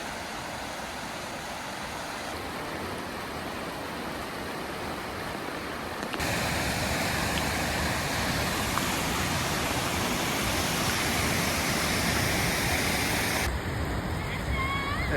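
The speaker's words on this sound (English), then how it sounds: "And here we have it. Here's the waterfall." Hardraw Force waterfall near Hawes roars as a steady, dense rush of falling water that grows louder partway through and stays constant to the end.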